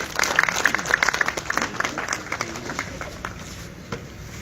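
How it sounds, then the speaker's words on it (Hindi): Audience applause welcoming the team of a new community radio station at an inauguration and national integration tour flag-off, a moderate burst of clapping that starts strong and thins out over a few seconds. "कृपया तालियों के साथ स्वागत करें टीम सदा ए पीर पंजाल का।"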